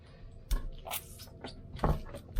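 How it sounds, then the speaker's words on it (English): Homemade butter squeezed by hand to press out its last moisture and water, giving a few soft, wet squelching bursts at close range against a quiet background. "just squeezing any remaining moisture, water"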